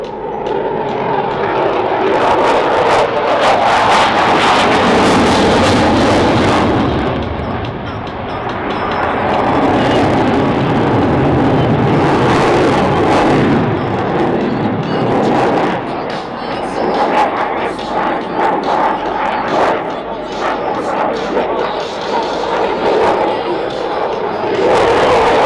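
An Italian Air Force Eurofighter EF-2000 Typhoon performs a flying display at an airshow, its jet engines roaring loud and continuous, swelling and fading as it turns near the display line, with crowd noise faintly underneath.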